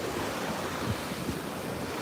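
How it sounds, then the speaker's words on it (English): Ocean surf washing in at a beach, a steady broadband rush of breaking waves with faint low rumbles and wind buffeting the microphone, no voices. "the ocean is so beautiful, Thomas"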